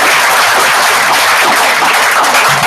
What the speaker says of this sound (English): So let's give them a little round of applause